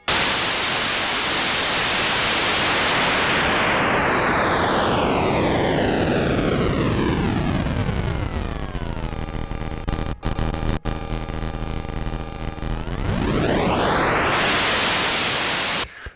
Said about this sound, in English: let's get it onto this kind of white noise, then we can hear the sample rate diminish